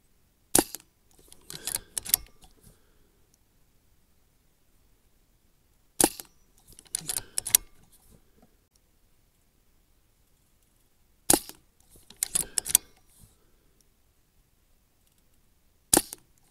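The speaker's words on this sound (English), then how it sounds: "I'm going to shoot to the left." A Brocock Ranger XR .22 sub-compact PCP air rifle fires, each sharp crack followed by a few quieter clicks of cycling and reloading, in four evenly spaced groups separated by silence.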